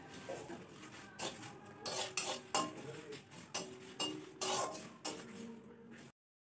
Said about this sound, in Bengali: প্রথমে জিরে, ধনে, মৌরি এবং শুকনো লঙ্কা দিয়ে প্রথমে মানে ড্রাই রোস্ট করে নিতে হবে।